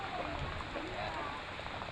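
Rain falls on the lake water at Barracuda Lake in the Philippines during a storm, a soft, continuous hiss of drops close by, quiet and even throughout.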